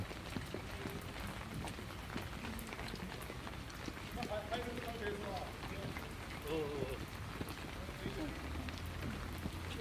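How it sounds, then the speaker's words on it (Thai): Steady rain falls throughout, a dense patter over continuous background noise, with occasional brief sounds in the mix, recorded while travelling in China. "ฝนตกอยู่"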